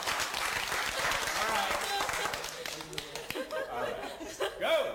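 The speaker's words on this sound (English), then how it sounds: "a little big round of applause for these guys" Classroom applause during a Pictionary lecture game, a burst of clapping from students mixed with laughter and chatter, fading into talk and scattered voices after a few seconds.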